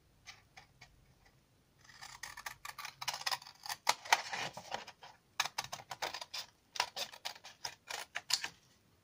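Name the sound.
cutting paper card with scissors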